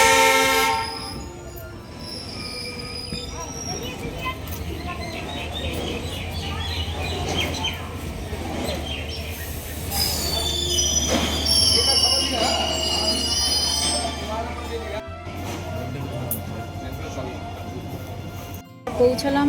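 A slow train runs through forest in the Dooars of North Bengal. A steady rolling rumble carries intermittent wheel squeals and a horn-like tone, with a voice and birds faintly in the mix.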